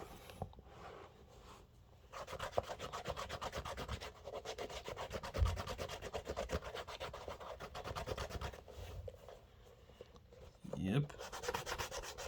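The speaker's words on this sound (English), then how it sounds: "Just rub it all over. Everywhere. On the Suede. Only on the Suede." A cleaning block rubs repeatedly over the suede of Clarks Wallabee shoes, giving soft, close, scratchy back-and-forth strokes with short pauses, and a voice briefly speaks once.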